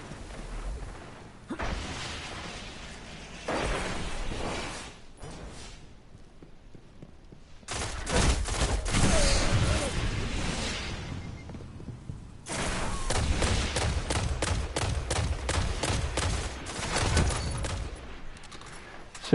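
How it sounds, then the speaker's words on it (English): Gunfire and a grenade blast in the sci-fi shooter game Destiny, heard as loud dense bursts of shooting and booms with a quieter gap between the volleys. "See what that grenade did?"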